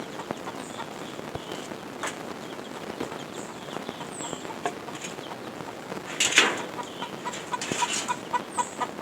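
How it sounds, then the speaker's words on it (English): Jamaican game fowl in a pit make scattered clucks and short calls at close range, with a louder burst of activity near the end over a quiet background. "It's a chicken pit."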